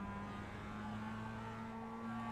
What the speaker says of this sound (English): If you listen to the engine, you can hear that.